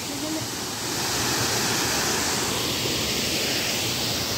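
A waterfall at Sundarijal near Kathmandu roars as a loud, steady broadband rush of falling water, swelling slightly after the first second and holding constant to the end.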